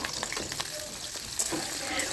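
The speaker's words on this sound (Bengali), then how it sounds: "এবার তেলের মধ্যে কেটে রাখা কুমড়োগুলো দিয়ে দেবো" Pieces of pumpkin sizzle loudly in hot oil, a dense crackling hiss with a few stirring clinks, close by.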